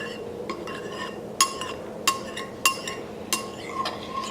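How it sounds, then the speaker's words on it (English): Kolache ingredients being stirred together in a bowl, with a utensil clinking sharply against the sides several times at uneven intervals over a quiet background. "So I'm taking this and just mixing it."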